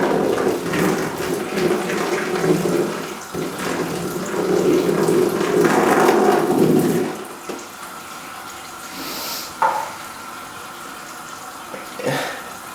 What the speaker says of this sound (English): it takes about 20 minutes to get this bath filled up